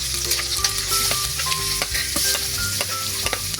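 Onion and ginger sizzling and frying in a pan, with a steady crackling hiss and clinks of a utensil stirring throughout, no voices.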